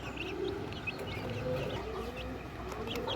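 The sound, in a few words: chickens and chicks clucking in a cage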